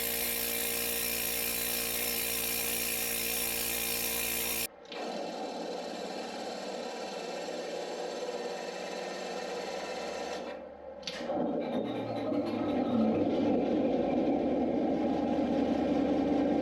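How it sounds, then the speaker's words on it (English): A pneumatic needle scaler hammers a weld to roughen it like a casting, giving a loud, continuous buzzing rattle close by. The tool cuts off abruptly, and a different, harsher machine whir follows and keeps running without a break. "we're going to take the needle scaler and we're just going to kind of hammer that weld"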